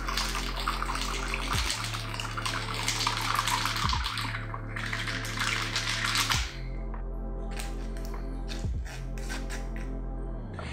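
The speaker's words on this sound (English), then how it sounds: "we're gonna fine strain it into our favorite cocktail coupe" A strawberry daiquiri is fine strained through a strainer into a cocktail coupe, a steady liquid pour heard in two long bursts over a low, constant hum, then softer trickles and small clinks.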